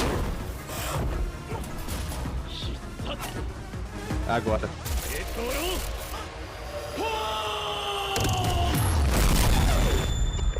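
A video game arrow shot effect: a sharp whooshing launch and impact with metallic, booming layers over busy game audio, while a person talks over it.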